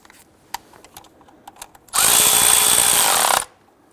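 A power tool snugs down a 13mm bolt on the back side of a 1999-2004 Jeep Grand Cherokee during MAP sensor replacement, firing in one loud, close burst of about a second and a half after a few light clicks.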